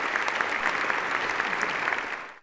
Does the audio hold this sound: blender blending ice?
no